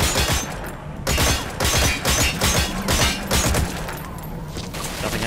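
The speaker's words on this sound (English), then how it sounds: "What if I shoot this box?" A rapid, evenly spaced string of close, loud gunshots rings out at a box in Metal Gear Solid V: The Phantom Pain, repeating steadily over a few seconds with no talking.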